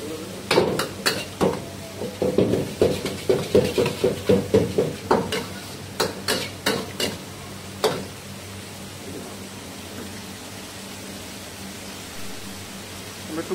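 Noodles and vegetables are tossed in a pan with a run of rhythmic scraping and clattering strokes for about seven seconds. The strokes then give way to a quieter steady sizzle.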